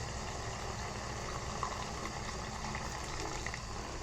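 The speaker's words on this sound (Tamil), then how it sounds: "அந்த புளியை குத்தி நல்லா கொதிக்கட்டும்." Tamarind water simmering in a pan with sautéed amaranth greens, a steady close bubbling and hissing boil that holds evenly throughout without talking.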